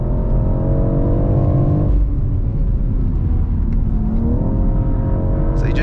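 A 2023 BMW X4 M Competition's twin-turbo S58 engine drones loudly and steadily, its pitch sagging then blipping upward on a downshift near the end, with no talking.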